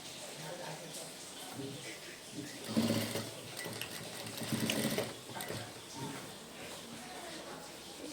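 A sewing machine stitches the hem of a baby blouse, a fast mechanical whirr swelling in two louder runs between quieter stretches, with a faint voice in the background.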